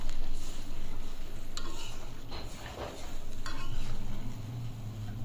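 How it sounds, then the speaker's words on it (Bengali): Masala and water are stirred in a pan for an aair fish curry: a steady scraping swirl with light clinks of the spoon on metal over a soft background sizzle. "এরপরে জলের সাথে মশলাটা যাতে মিশে যায় তাই একটু নেড়েচেড়ে দিতে হবে"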